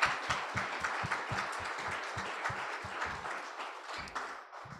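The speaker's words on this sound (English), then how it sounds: "just want another quick round of applause," Audience applause for the presenters at a tourism forecast and economic update forum, a quick spell of steady clapping that holds for several seconds before thinning out.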